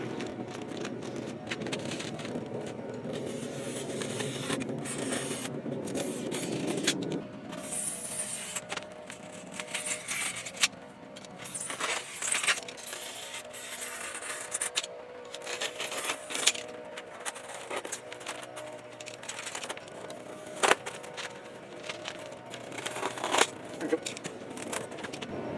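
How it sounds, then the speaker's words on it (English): A cheap little razor knife slices through insulation with scratchy, crackling cuts and rustles, close up, broken by occasional sharp snaps and shuffling handling noise. "I'm going to attempt to cut it with this cheap little razor knife"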